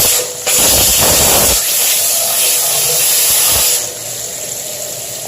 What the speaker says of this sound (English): Rinse the head with water while shooting the steam.